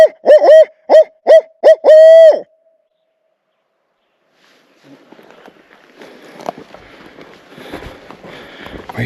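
Five loud, close hoot-owl hoots ring out in quick succession during an afternoon turkey hunt on Oregon public land. After a brief silence, crunching footsteps and rustling through brush follow.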